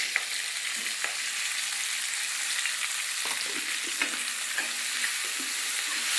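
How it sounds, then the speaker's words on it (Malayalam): Chopped onions with a pinch of salt sauté in hot oil and are stirred now and then, making a steady, close sizzle with soft spatula scrapes for aloo gobhi. "ഉള്ളി ആവശ്യത്തിന് വഴറ്റി ഇത്രയും മൂത്താൽ മതി"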